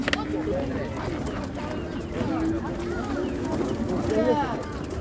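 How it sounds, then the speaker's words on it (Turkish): Pigeons or doves coo in soft repeated calls at the Ganja bird market, close by under steady crowd murmur and people talking. "Deməli, hər cürə kuş var"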